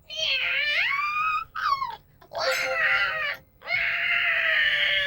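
A person's voice imitates a cat in heat: drawn-out, wavering yowls in three loud, close bursts separated by brief pauses.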